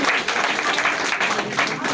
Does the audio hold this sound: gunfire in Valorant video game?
no